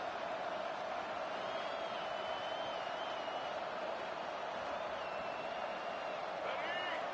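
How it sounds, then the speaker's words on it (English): A dense, steady roar of a large crowd at an NCAA stadium game fills the air, a broad wash of distant voices with faint whistles rising over it. "This crowd bringing the energy and noise early."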